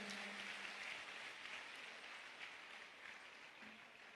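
Faint, continuous applause from an audience at a Hindi book launch for a comic version of the Gita, an even wash of distant clapping with no voices over it.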